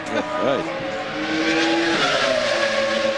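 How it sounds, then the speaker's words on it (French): A Minardi Formula 1 car powered by an outdated Ford V10 engine at Canadian Grand Prix qualifying, giving a loud, steady high-pitched engine whine with a brief rising pitch sweep, with commentary voices underneath. "un moteur Ford vraiment désuet"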